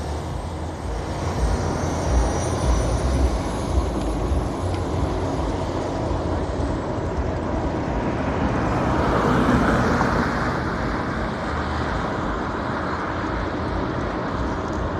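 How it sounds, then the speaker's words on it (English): Bus passing close to a cyclist in Houston traffic, a steady roar of engine and road noise that swells to a close peak and then eases off, with wind noise throughout. "Damn, bus trying to take me out."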